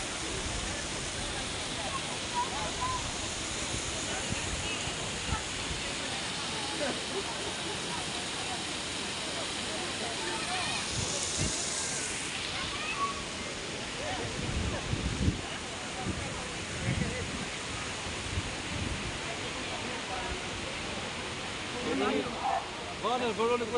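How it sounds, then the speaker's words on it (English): Water mill with flowing water at the spring of Krya in Livadia, a steady broad rushing of water throughout, with a voice speaking faintly beneath it at times. "Yan yung water mill guys."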